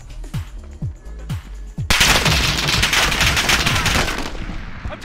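Heavy automatic gunfire in Call of Duty Warzone, a few sharp separate shots at first, then a dense, loud sustained burst of rapid fire that continues to the end.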